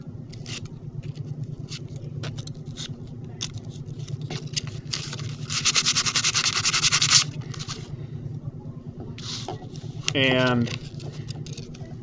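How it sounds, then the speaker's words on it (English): Sandpaper scrubs shellac off the end of a copper coil wire, a close, quiet run of rapid scratchy rasping strokes with one longer sustained rub midway; a voice speaks briefly near the end. "we want to make sure we sand off the other end of our coil. Get all that shellac off that other end."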